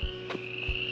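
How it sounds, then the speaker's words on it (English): Tree frogs calling outdoors at dark after a warm day of about 70 degrees, a steady high trill running throughout with a couple of low croak-like pulses beneath, moderately near. "Y'all hear them, you hear them tree frogs?"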